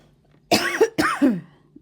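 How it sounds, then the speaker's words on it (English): Two sharp, close coughs in quick succession, each with a raspy throaty tail, in an otherwise quiet room. "Excuse my coughing, I've got an annoying cough at the moment."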